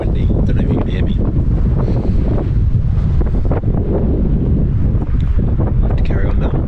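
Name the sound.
wind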